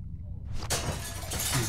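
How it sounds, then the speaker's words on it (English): Window glass shattered by a swung bat in The Walking Dead game: a sudden loud crash followed by a bright spray of breaking shards that rings on for over a second, close and dominant. "Use the bat to shatter that window so you can reach in, okay?"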